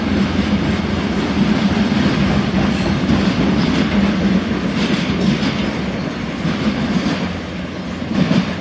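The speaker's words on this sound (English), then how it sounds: "That was a short train." A small live-steam garden railway train rumbles steadily past at close range, wheels clattering rhythmically over rail joints for several seconds, loud and continuous.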